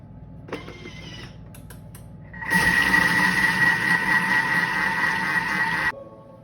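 A Thermomix TM6 fitted with its whisk whips mascarpone chantilly cream at speed 3.5. A few clicks and a faint whine come first, then a loud, steady motor whir runs for about three and a half seconds before cutting off.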